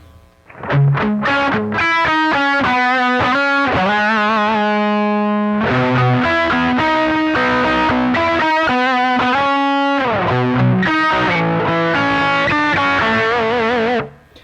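Heavily distorted electric guitar through a Voodoo Labs guitar preamp's built-in cab simulator output plays chords and riffs continuously, with a boxy, speaker-cabinet tone; no talking.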